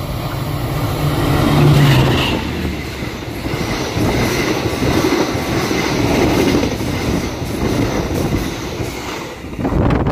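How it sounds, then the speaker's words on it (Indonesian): Lodaya passenger train from Solo Balapan to Bandung passing at top speed, a loud, continuous rolling roar of wheels and carriages with clattering rail noise and brief squeals, swelling near the start and holding steady throughout. "itu dia kereta api Lodaya top speed di sini ya"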